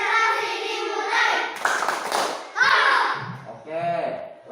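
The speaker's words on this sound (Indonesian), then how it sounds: "Tepuk konsentrasi." A group of children performs a concentration clap routine, chanting in unison and punctuating the chant with sharp, sudden group claps and slaps, heard close in a room.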